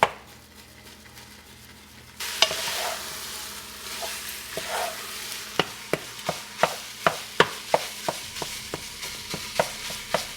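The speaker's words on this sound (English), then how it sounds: "I just take a flat-ended spoon like so, and I go in and mash it up" Sausage meat for sausage gravy is mashed with a flat-ended spoon in a hot pan. Sizzling starts abruptly and holds steady under a run of sharp, regular taps and scrapes of the spoon against the pan.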